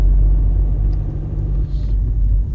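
A campervan driving on a road in Copenhagen gives a steady, loud low rumble of engine and tyre noise from inside the cab, unbroken throughout and with no talk.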